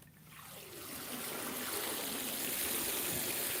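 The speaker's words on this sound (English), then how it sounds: "Empty the water out." Water pours and trickles steadily out of a container while fishing on Lake Gaston, building from a soft start into a continuous splashing stream, close and clear with no talk.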